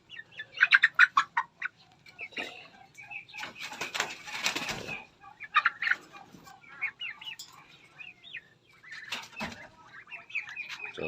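Young poultry chicks chirp in quick, high-pitched bursts at close range, with short pauses between clusters and a few scattered peeps toward the end.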